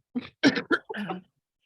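A short burst of raspy coughs, four quick hacks in a row, close and fairly loud, from a panelist in an online meeting, followed by silence.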